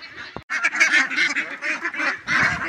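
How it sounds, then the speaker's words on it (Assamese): A flock of 64-day-old ducks honks and quacks continuously at close range, many overlapping calls forming a loud, busy chorus. "এইবোৰ মোৰ হাঁহ আৰু বাকী 100টা হাঁহ তাত আছে।"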